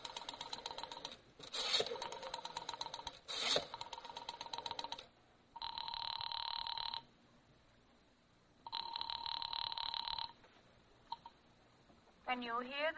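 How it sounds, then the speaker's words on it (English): Telephone in a radio drama: clicking rotary dialing followed by repeated loud ring bursts with pauses between them, ending with a rising tone. "went to the phone and dialed"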